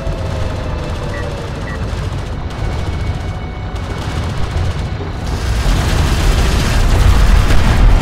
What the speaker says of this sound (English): Armored vehicle is taking fire is under fire.